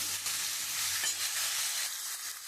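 Chopped vegetables fry in a pan for a papaya-potato fish curry, a dense, continuous close sizzle with faint stirring underneath.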